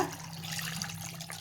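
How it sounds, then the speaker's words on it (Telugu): Water pours into a pressure cooker with mutton pieces in a brief, steady splashing stream, fairly quiet and alone. "వాటర్ పడింది"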